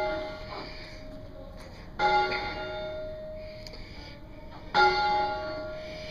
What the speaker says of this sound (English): Imagine it'd be a lot worse if all the bells were going off at the same time.